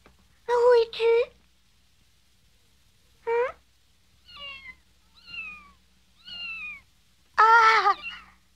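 A cartoon cat gives three soft, separate meows in an animated series, spaced a second apart, between short bursts of a voice calling out.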